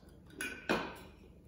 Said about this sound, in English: Take your pan, take a dessert spoon, and you start with the porridge oats